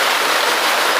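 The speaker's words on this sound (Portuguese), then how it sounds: "pelo jeito que tá a chuva aí, creio eu que vai encher a grama de granizo." Heavy hail and rain pour down steadily onto an outdoor animal-breeding yard, a dense, loud, unbroken hiss with no pauses.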